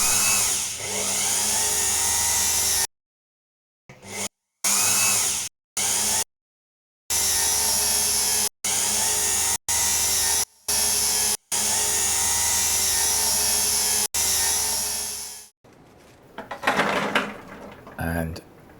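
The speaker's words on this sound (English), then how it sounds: "I think I'm just going to take that down on the lathe" A small lathe turning down a screw head from a gold Longines watch during restoration, a loud steady motor whine broken by repeated abrupt stops and restarts, then handling clatter at the end.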